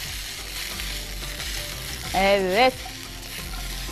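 Boiled pasta sizzles steadily with butter in a hot pan, a continuous frying hiss with a short burst of stirring, while a voice briefly says a word over it.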